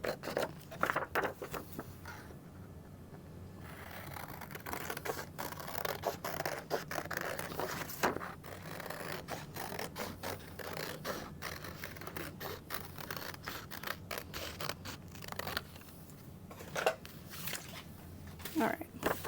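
Leather for a lining piece of a convertible backpack being cut, with scissor snips and scraping over a work surface, close and fairly quiet in irregular bursts, occasional talk nearby.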